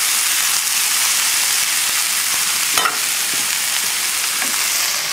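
Chicken thighs sizzle steadily in a hot pan over a high flame, a loud, continuous frying hiss with a brief stirring scrape near the middle and no talking.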